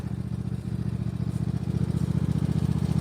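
A small snow-clearing tractor with a 26 hp Kohler engine idles steadily close by, a low rhythmic throbbing rumble with no voices.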